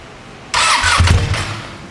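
Ducati Panigale V2 sport motorcycle with its stock exhaust starting up: a sudden starter whir quickly catches into a rough, loud engine burst that settles briefly, heard up close.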